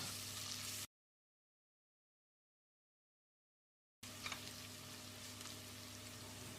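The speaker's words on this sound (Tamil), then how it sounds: "இஞ்சியை இடித்து வச்சுருக்கேன் இதை போட்டு பச்சை வாசனை போகிற அளவுக்கு ஒரு முப்பது நாற்பது செகண்ட் ஃப்ரை பண்ணி விட்டுடலாம்" Crushed garlic and ginger fry in hot oil with a soft, even sizzling hiss, broken by a few seconds of silence before the quiet crackle resumes.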